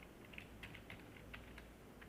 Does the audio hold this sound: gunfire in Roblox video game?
no